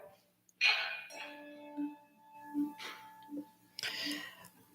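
Bass handbells played with the echo technique sound at a concert, with low tones repeating at a regular pace, each struck and then briefly ringing again, mixed with faint bright rustles and clinks.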